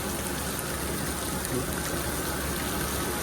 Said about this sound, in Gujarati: જો ફોરક્લિપ ઉપર પાણી પડી રહ્યું છે